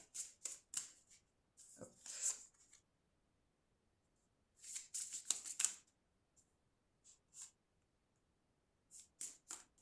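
Oracle cards are shuffled and drawn in quiet bursts of papery riffling and soft slaps, separated by silent pauses, with a brief spoken word in between.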